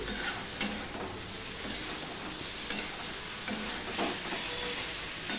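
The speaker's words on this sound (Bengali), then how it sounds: "এবার দিয়ে দিলাম আমি ভেন্ডিগুলো, সম্পূর্ণটা আমি মিশিয়ে নিচ্ছি, দেখতেই পাচ্ছ মশলার সাথে দিয়ে একটুখানি আমি কষিয়ে নিচ্ছি" Okra being stirred and sautéed with spices in a pan, a steady close sizzle of frying with scraping stir strokes throughout and no talking.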